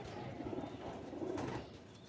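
A Ferozpuri pigeon coos softly and steadily up close, a low murmuring call with no talk over it.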